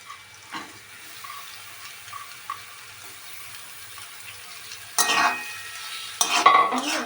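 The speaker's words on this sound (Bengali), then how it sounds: "এরপর বেশ কিছুক্ষণ আমি এটাকে এবার নাড়াতে থাকবো।" Snake gourd is stir-fried in a pan, with a quiet background and occasional faint scrapes, then two louder bursts of spatula stirring and sizzling toward the end.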